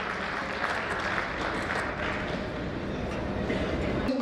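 Sustained applause from an audience at a medical honours ceremony at The Royal Palace, greeting an orthopedic surgeon on World Health Day; dense, steady clapping fills the whole stretch, with faint voices mixed in.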